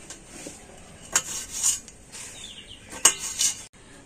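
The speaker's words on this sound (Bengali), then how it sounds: "আর এবার আমি সবুজ আঙুরটা কেটে নেব।" A knife slices green grapes on a board, giving a few sharp clicks and scraping taps spaced over several seconds against a quiet background.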